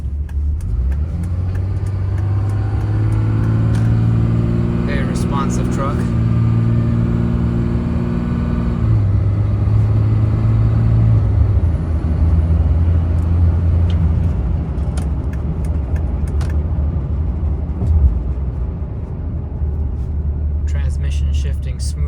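A 2004 Dodge Ram 2500 quad cab pickup with a 5.9L Cummins turbo diesel drives steadily, its low engine drone rising and falling as it shifts through the gears, with someone talking over it throughout.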